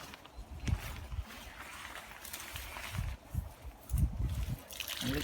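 Water from a garden hose soaks the soil in a dug trench around a privet hedge, faint trickling and splashing with soft irregular bursts, quiet and close.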